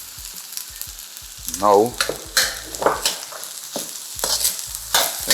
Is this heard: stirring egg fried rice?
yes